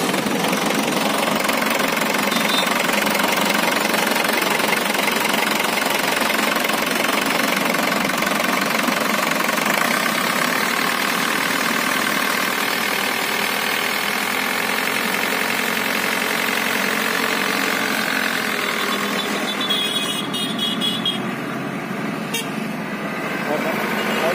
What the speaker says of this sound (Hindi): अभी इंजन साउंड सुनते हैं चलिए मिश्रा जी इंजन चालू कीजिए